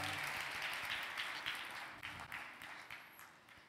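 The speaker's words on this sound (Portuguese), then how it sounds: "Dê um bonito aplauso ao nosso Jesus" Church congregation applauding after a prayer, a sustained wash of many hands clapping at moderate distance that slowly thins and fades over several seconds.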